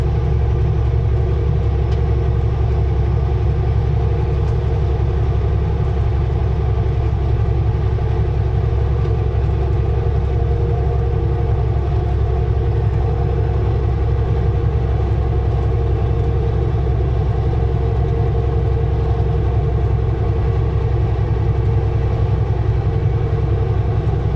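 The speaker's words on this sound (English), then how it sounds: "It's a pretty busy highway." Busy highway traffic passing a truck hauling a huge granite rock, heard as a steady, loud, unbroken rumble of engines and tyres that holds without pause throughout.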